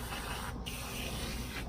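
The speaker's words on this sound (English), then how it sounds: "I'm spraying water, it's not moving" Water sprayed from a hose onto dirt around a telescoping flagpole base to wet it into mud, a steady close broadband hiss with a brief break partway through.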